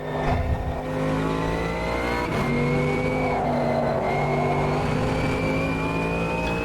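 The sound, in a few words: GT3 race car engine cutting with traction control, Automobilista 2 game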